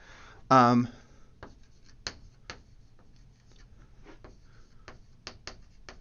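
A pen or pencil scratches on paper while notes are written, with brief irregular strokes and taps spread over several seconds after a short burst of voice.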